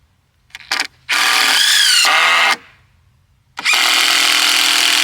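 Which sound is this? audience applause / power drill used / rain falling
power drill used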